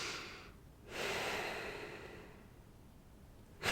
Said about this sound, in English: I'm talking about diaphragmatic breathing from your diaphragm, utilizing your diaphragm